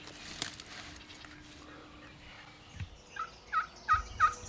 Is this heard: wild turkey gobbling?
yes